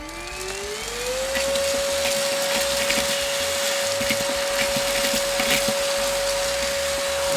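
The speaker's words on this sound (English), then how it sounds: "Just like that, we got everything caught up inside the vacuum." An APOSEN 4-in-1 cordless handheld vacuum (10Kpa) spins up on super strong mode and sucks up Lay's potato chips, its pitch rising quickly into a steady, loud, high whine with crackling debris rattling through the nozzle.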